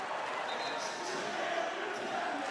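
A college basketball crowd, Furman versus Samford, on its feet roaring after a hustle play, a steady, fairly distant wash of cheering with a commentator talking over it throughout.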